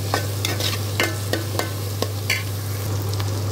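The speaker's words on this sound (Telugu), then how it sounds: "ఇప్పుడు మనం ఉల్లిపాయ పచ్చిమిరపకాయలు వేసుకుంటున్నాం" Onions and green chillies fry in a pan for a homemade tomato curry, with a soft continuous sizzle and repeated clicking scrapes of a spoon stirring at an uneven rhythm, close by under a steady low hum, with no talk.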